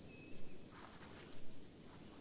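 Large marsh grasshopper song, made by rhythmic snapping of the hind legs in a moorland habitat, heard as a steady insect chirring outdoors with faint clicking patter, moderately loud and with no voices.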